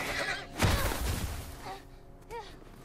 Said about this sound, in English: You don't shoot my fucking horse.